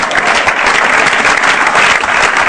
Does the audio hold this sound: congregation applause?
yes